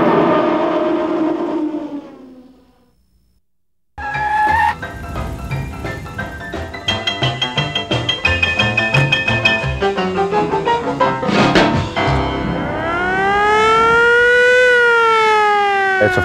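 A 1939 Ford fire truck with a Beckel body sounds its siren, a loud wailing tone that rises and falls, mixed with bell-like ringing and mechanical clatter. It cuts out briefly, then returns as a sweeping wail.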